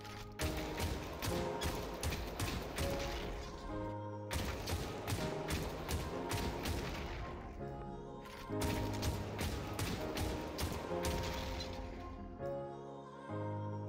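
Rapid automatic fire from an RFB rifle in the VR shooter Population: One, striking and breaking a player-built structure. Three long, sustained volleys of loud, evenly spaced shots sound close by, with brief pauses between them.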